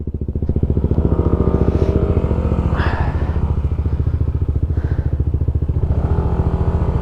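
A motorcycle engine runs steadily and loudly throughout while riding a mountain road in Tinoc, Ifugao, its rapid putter close by with a faint rattle and a little wind noise over it; a warning light is showing.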